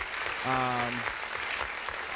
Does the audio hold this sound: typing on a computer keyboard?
no